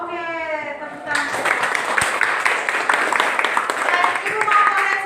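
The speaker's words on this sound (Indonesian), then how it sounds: "Oke, tepuk tangan." Classroom applause after a group's chemistry presentation: a voice speaks briefly, then a burst of steady clapping from the students fills the remaining four seconds.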